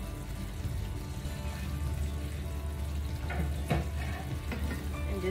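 Chilli soya in a pan gets a final stir, a soft continuous sizzle and low rumble with a couple of faint scrapes of the spoon, steady and close with no voices.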